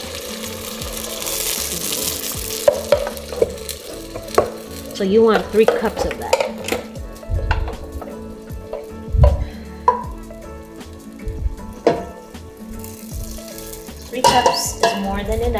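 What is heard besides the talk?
pepper mix frying and being stirred for Nigerian jollof rice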